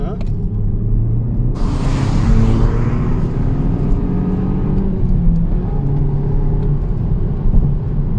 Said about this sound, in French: Alors on passe à seconde, on va voir ce que ça donne au niveau d'accélération.